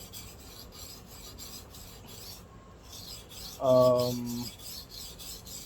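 A Japanese kitchen knife being re-profiled on a whetstone gives repeated rhythmic rasping strokes up close, with one louder grinding pass near the end and a brief hesitant voice.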